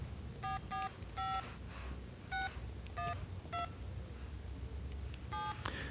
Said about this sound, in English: simply dial the number that you desire